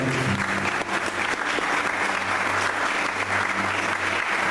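A church congregation applauds during a sermon: steady, dense clapping that fills the room evenly for several seconds, with a low hum running underneath.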